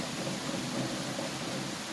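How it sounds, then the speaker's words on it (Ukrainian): Steady heavy autumn downpour by an apartment building, a close, even wash of rain noise with a faint low rumble and no talking. "Ну, дощ просто жесть."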